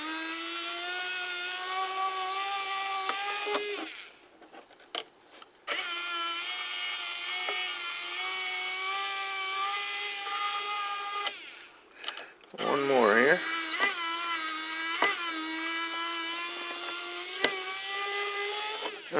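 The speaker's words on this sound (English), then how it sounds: "my little electric battery powered drill. I love it for these servo screws." A small battery-powered electric drill loosens servo screws on a Kadet LT-40 model airplane build, whining in long steady runs with brief pauses and a pitch sweep as it stops and restarts, close and fairly loud.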